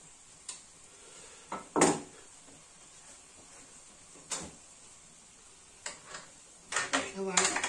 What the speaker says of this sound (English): We're going to throw in our shallots around the sides here.